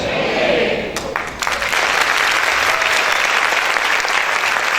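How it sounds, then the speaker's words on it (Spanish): Church congregation applauding at a worship service, dense steady clapping that fills the room, loud and close throughout with a brief dip near the one-second mark. "Si ese aplauso es para el Señor, déselo fuerte"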